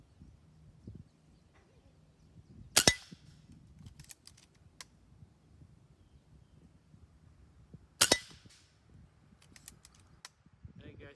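A MaCavity Arms .22 air rifle fires two sharp cracks several seconds apart, each followed by a faint metallic pellet impact, outdoors with quiet background and little talk.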